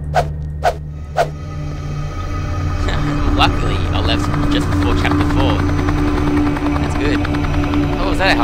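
A helicopter in the video game Nightmare House 2 keeps up a steady droning rotor hum with a low engine rumble, preceded by a few sharp thuds, and fills the whole stretch without speech.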